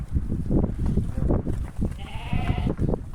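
Sheep and lambs on a Kazakh village farm bleat in a dense, overlapping chorus from a flock, with one clearer nearby bleat standing out near the end amid steady milling noise.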